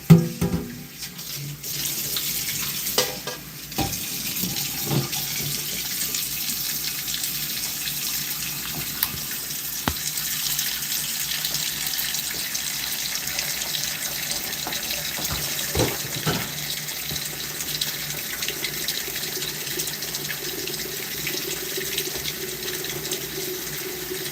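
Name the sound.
tap water running into a cooking pot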